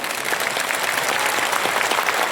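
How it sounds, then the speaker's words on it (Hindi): An audience at a Samrat Ashoka birth anniversary gathering in Patna claps loudly and steadily. The dense, continuous applause is close by and fills the whole moment. "देख, जोरदार ताली सबकी तरफ से होनी चाहिए।"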